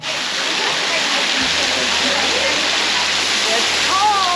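A waterfall at Grotto Falls roars loudly and steadily nearby, a constant broadband rush of falling water with a faint voice entering near the end.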